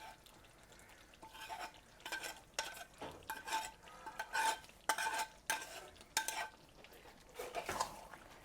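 Fried capsicum, onion and spice mix stirred into a curry in a pan, with irregular scraping and clinking strokes of a spoon against the pot over a faint sizzle.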